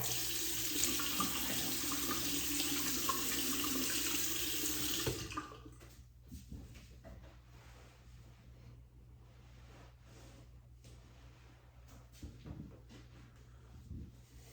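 Tap water runs steadily into a sink while a razor is rinsed, a loud continuous rush for about five seconds that cuts off, leaving quiet room tone with a few small knocks.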